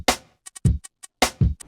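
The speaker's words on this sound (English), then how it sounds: "So the drums go like this." A produced drum beat loops alone: punchy kick and snare hits alternating with short crisp hi-hat ticks in a tight, repeating pattern, loud and dry.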